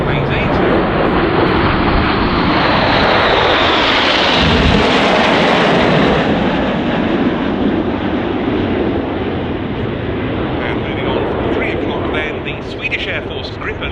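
A Royal Canadian Air Force CF-188 fighter jet flies at an airshow, its loud broadband engine roar swelling to a peak as it passes close by, then fading slightly, with voices talking over it.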